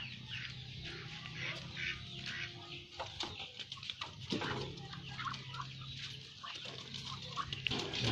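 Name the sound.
ducks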